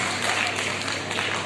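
An audience claps at a women's Corona warriors award ceremony in Balotra, a brief dense patter of applause holding steady throughout.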